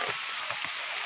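Rain falling outdoors near a pond, a steady broadband hiss of drops with a few soft low thumps, continuous and fairly close, with no talking.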